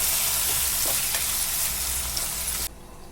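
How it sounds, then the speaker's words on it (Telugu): Chopped tomatoes are stirred into hot oil in a pan for a catering-style brinjal and chana dal curry, with a loud, continuous sizzle and scraping that cuts off abruptly near the end. "టమాటా వేసేసి బాగా కలిపి కాసేపు మగ్గనిద్దాం"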